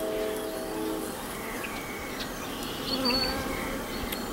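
Honeybees buzz in an opened hive, a dense, steady drone close by with a faint swell from the crowd of insects and no voices over it.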